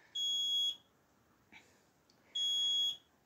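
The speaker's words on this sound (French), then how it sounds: "Il y a un détecteur de fumée, quoi." Two loud, sustained electronic smoke detector alarm beeps, each about half a second, separated by a quiet gap with a faint knock, sounding indoors near a running BX GTI 16 car.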